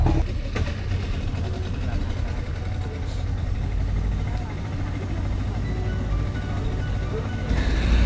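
A boat engine drones steadily and close on a river estuary at Muara Gembong, Bekasi, a low rumbling hum running throughout without pause.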